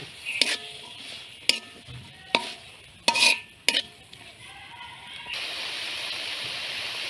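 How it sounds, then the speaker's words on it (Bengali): Food is stirred in a pan after salt goes in, five sharp scraping strokes of a utensil against the pan, followed by a steady hiss of sizzling. "এখন লবণ দিয়ে দেব একটু নেড়ে দেব"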